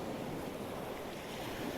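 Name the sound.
sea waves breaking against a wall in winter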